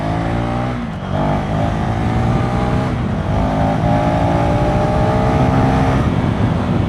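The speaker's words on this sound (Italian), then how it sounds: "Mi piace come va il motore ai bassi" A KTM 390 SMC-R motorcycle engine on a test ride, running loud and close with a steady low-rev drone and layered harmonic tones, rising slightly as the rider gets on the throttle, with constant wind rush throughout.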